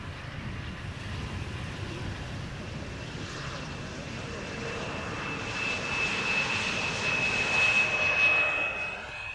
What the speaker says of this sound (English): KLM Flight 1088. Embraer 175.